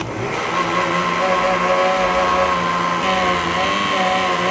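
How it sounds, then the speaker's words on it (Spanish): A blender whirs steadily at medium speed, mixing aloe vera gel for homemade disinfectant, a loud continuous motor drone with no pauses. "Lo vamos a licuar a velocidad media."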